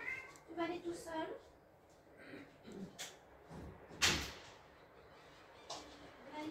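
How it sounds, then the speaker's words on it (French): A pet cat meows at a door as it is opened indoors, short meows mixed with a sharp door knock or clack partway through, under someone talking. "Je vais ouvrir à mon chat."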